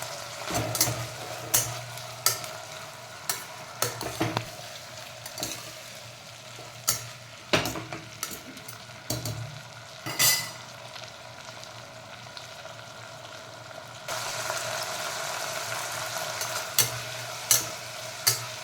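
Cluster beans sizzle in hot oil in a pan while a spoon scrapes and stirs them at intervals, giving sharp clatters over a soft steady hiss that grows louder and fuller in the last few seconds.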